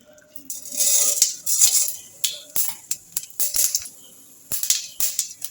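Mustard seeds crackle in hot oil in a pan, producing scattered sharp pops and spitting bursts with a frying hiss between them, close and irregular.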